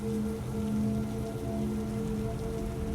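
Steady rain pours down across a backyard of wet grass at night, a dense, continuous hiss that stays even and fairly loud for the whole stretch with no voices over it.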